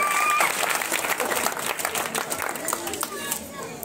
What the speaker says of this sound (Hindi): तालियां मार दो भाई